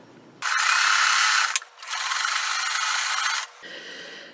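A sewing machine stitches bigger quilt pieces together in two loud, steady bursts of motor whirring, about a second and then nearly two seconds long, with a short pause between and a quieter hum before and after.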